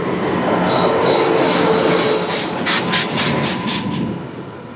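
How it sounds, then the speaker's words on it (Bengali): The 15959 Howrah–Dibrugarh Kamrup Express pulls out of Khagraghat station at night with a loud, steady rumble of rolling wheels and carriages and some sharper metallic bursts, and no voices. "খাগড়াঘাট থেকে এনজিপির উদ্দেশ্যে রওনা দিল আমাদের কামরূপ এক্সপ্রেস।"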